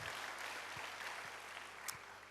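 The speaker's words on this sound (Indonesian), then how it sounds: "Ya berikan tepuk tangan dulu bagi Tuhan." Congregation in a church gives a steady round of clapping, dense and continuous throughout, with a few low thumps beneath it.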